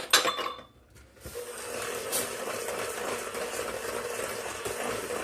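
Sour cream is stirred into banana bread batter in a bowl, giving a steady, soft scraping and squelching. An initial clatter and a brief pause come before the continuous mixing.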